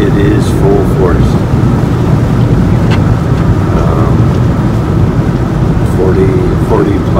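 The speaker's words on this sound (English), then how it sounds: "40 plus mile an hour wind gusts." Blizzard wind gusts of 40-plus mph batter a vehicle driving east of Laramie, a loud, constant roaring rush with low rumble throughout and no letup.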